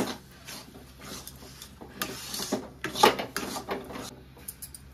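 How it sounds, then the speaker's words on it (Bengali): A spoon or spatula stirs potol dorma stuffing with garam masala and chopped coriander in a pan, producing soft, irregular scraping and rubbing strokes, close and moderately quiet, with no voices. "ভালো করে মিশিয়ে নেব।"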